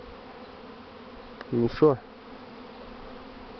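Swarming honey bees during a failed false swarm flight, a brief burst of close buzzing lasting about half a second, rising over a quieter insect hum, with a short spoken remark.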